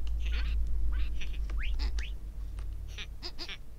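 Parrots in Minecraft mimic the sounds of illager mobs, giving short, nasal, squawking bleats and quick rising chirps in bursts over a steady low game hum.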